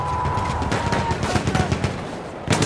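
Perino Model 1908 light machine gun firing in a World War One video game battle at Achi Baba, a dense run of rapid shots rattling steadily across the clip, with a louder burst near the end.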